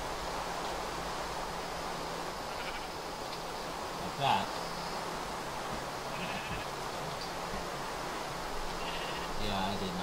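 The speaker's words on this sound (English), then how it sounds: "These sheep are gonna piss me off." Sheep bleating in Minecraft, a few short blocky bleats sounding moderately near over a constant background hiss, with someone talking over parts of it.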